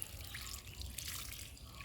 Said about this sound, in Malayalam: നമുക്ക് വെള്ളം ഒഴിക്കണം